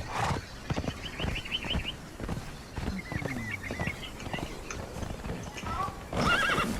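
A horse in the video game Conan Exiles neighs repeatedly with whinnies, while hooves clop steadily underneath and people talk over it.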